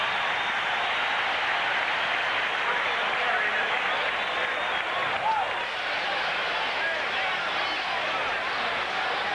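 A stadium crowd at a 1985 NFL game between the Bears and Redskins roars after a hard hit, a dense, steady wall of cheering and crowd noise that holds at an even level throughout.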